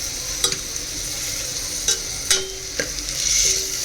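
Masala paste and tomatoes frying in a pan for a dhaba-style mixed vegetable curry, a low steady sizzle broken by a few sharp stirring scrapes and clinks, close and moderately loud with no talking.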